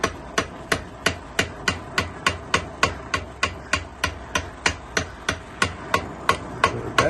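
Steel knife spacer being forged, struck by a hammer in a steady, even rhythm of about three blows per second, each sharp ringing impact close and loud with no talking.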